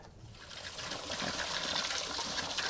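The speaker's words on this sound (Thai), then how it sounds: "ล้างให้ยางมันออกสองสามน้ำนะครับ" Running water pours steadily from a tap as chayote is rinsed under it, a close, continuous splashing gush that swells slightly after the first moment and holds without talk.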